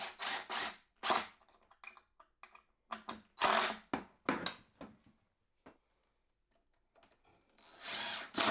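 A power drill drives screws into clamped, freshly glued wood in short bursts, each burst separated by pauses, with close, loud whirring and a few light knocks between runs.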